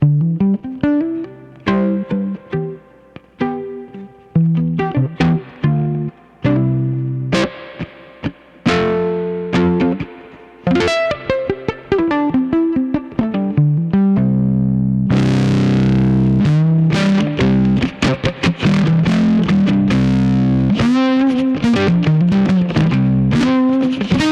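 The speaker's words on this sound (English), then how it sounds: "I gotta do a little fuzz." A violin melody run through heavy fuzz distortion, gritty and sustained, growing denser and more aggressive partway through, played alone without talking.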